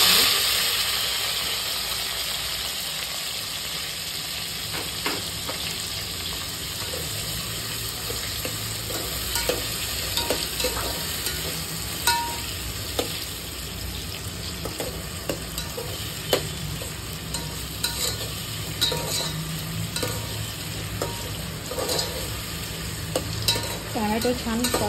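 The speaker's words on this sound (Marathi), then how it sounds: "टोमॅटो छान परतून द्यायचं।" Chopped tomatoes frying in a pan for green peas pulao, a loud continuous sizzle and hiss with repeated clinks and scrapes of stirring over the whole stretch, no voices.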